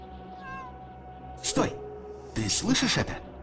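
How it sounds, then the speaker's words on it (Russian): A cat in the video game ShadowSide meows twice, a short call then a longer wavering meow, close and clear over a low game ambience. "Смотри, это же кот."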